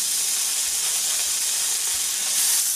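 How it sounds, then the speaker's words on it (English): Homemade smoked bacon sizzles in a frying pan, a steady bright hiss and crackle held evenly throughout at moderate loudness, with no voices. "Throw it in a frying pan."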